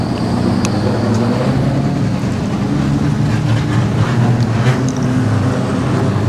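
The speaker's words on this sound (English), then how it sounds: "she's backing the car out of the fence" A street stock race car at Redline Raceway, its panel work damaged, reverses out of the fence with a steady low engine rumble, loud and continuous over a busy raceway background.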